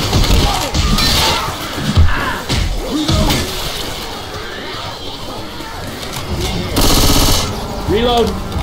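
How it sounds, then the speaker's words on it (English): Video game gunfire in Left 4 Dead 2 during a realism campaign: rapid, dense bursts of shots with crashes and shattering, loud and chaotic, mixed with shouting voices. "Stop shooting!"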